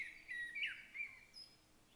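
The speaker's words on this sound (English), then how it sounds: "we were trying to get bird sounds to work before, right? I got it working now" Recorded birdsong plays quietly as background ambience, a few soft chirps and short warbling calls over faint room noise.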